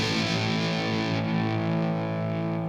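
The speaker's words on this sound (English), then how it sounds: "That's a pretty authentic sounding octave up fuzz." A Line 6 M9 octave-up fuzz effect on an electric guitar played through the neck pickup, one sustained, buzzy, loud chord ringing on its own and slowly fading.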